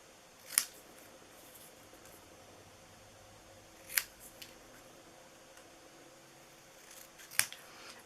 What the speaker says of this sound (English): I'm cutting it really close to the letters so we can fit it